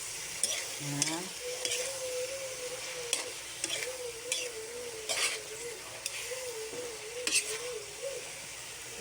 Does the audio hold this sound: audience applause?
no